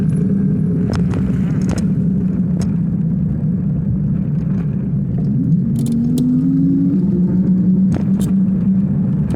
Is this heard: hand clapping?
no